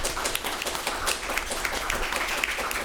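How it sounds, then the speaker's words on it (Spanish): Audience at a panel discussion on graphic narrative and visual arts clapping for a speaker, a dense, fairly close patter of many hands running evenly throughout. "Un aplauso para ella."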